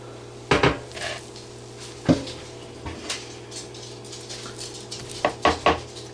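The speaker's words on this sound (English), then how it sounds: "now we're going to remove it and put it into a different bowl" Masa scooped from a mixing bowl into a cup with a spoon, giving scattered clinks and scrapes of utensil on dishware, a few isolated knocks, then a quick cluster of clatters near the end over a steady background hum; no talking.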